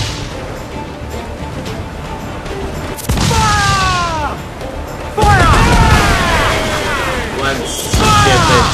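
Ship cannons fire in a naval battle in Assassin's Creed 4 Black Flag, heavy booms and crashing impacts arriving in bursts amid whistling, whooshing game effects and background game noise.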